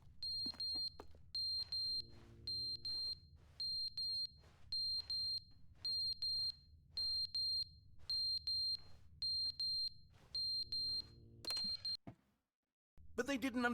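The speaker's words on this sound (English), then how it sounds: "What's that beeping sound?" An electronic alarm in a video game sounds repeated high-pitched beeps in steady bursts over a low hum, then falls silent near the end before a sudden noisy burst.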